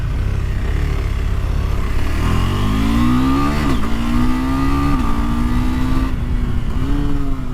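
A KTM 390 Adventure motorcycle pulls away hard, its engine revving loud and close with rising pitch through several quick upshifts, no talking over it.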